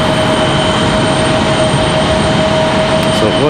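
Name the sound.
Airbus A320 airplane at Raleigh Durham airport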